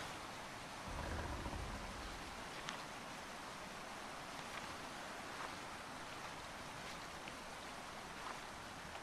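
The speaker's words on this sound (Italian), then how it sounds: "E c'è l'acqua che ci copre." Rushing waterfall in the video game A Quiet Place, a steady, dense roar of falling water that fills the scene evenly throughout, with a brief low swell near the start and no one talking.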